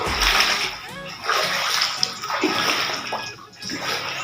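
Floodwater pours hard into a flooded village in Chan Sen subdistrict, a loud continuous rushing and splashing wash close by, with surging bursts and only faint voices.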